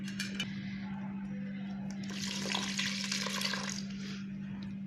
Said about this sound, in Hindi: ये दूध ऐड किया